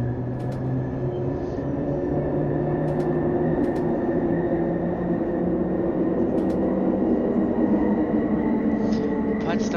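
An S-Bahn train running on Berlin's S25 line in Train Simulator 2021, a steady rumbling drone with tonal motor whine and occasional clicks throughout, close and continuous.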